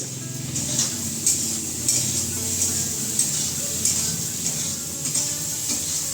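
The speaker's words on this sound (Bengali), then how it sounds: "এখানে বসিয়ে দিয়েছি হচ্ছে নিম বেগুনের জন্য বেগুন ভাজা" Eggplant slices frying in a home kitchen pan for a neem-and-eggplant dish, giving a steady hiss of oil with soft clinks and scrapes of a utensil against the pan.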